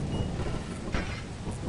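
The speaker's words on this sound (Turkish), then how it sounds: "Fırtına dikkat." A thunderstorm in the video game Lethal Company, with a continuous roar of rain and rumbling thunder and one sharper crack near the middle.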